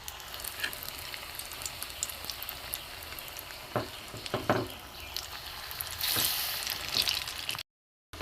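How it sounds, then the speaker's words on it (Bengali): Pitha rice cakes for Bengali milk gokul pitha deep-frying in hot oil, a steady close crackling sizzle with a few louder bursts of spitting and bubbling. "দুধ বকুল পিঠে করার জন্য পিঠেগুলো আগে আমি তেলে ভেজে নিলাম, ভেজে নিচ্ছি।"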